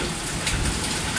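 Steady rain falls continuously on a surface, a dense, even hiss with no voices and no clear thunder.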